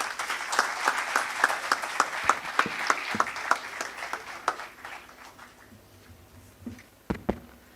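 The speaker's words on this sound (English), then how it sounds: "Over to you with a huge round of applause." An audience at a formal address by an industry leader in India claps with a brisk, dense burst of applause that gradually thins out into a few scattered, louder individual claps near the end.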